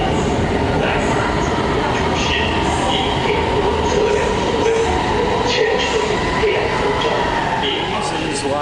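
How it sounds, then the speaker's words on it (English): A subway train in China rumbles loudly and steadily while riding, with a constant low roar, rattling carriage noise and faint squeals throughout. A voice talks underneath. "we're gonna get on the subway and we're gonna end up over at the other side of town"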